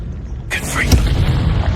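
A Confringo blasting spell explodes in Hogwarts Legacy: a sudden loud boom after a brief quiet lead-in, with rumbling low energy trailing on.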